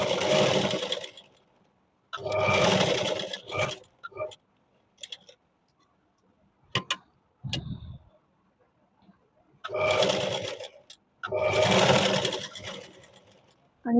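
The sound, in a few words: sewing machine stitching blouse fabric hem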